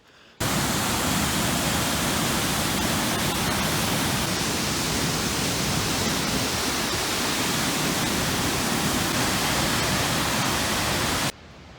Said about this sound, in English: it's one of the largest waterfalls on the east of the Mississippi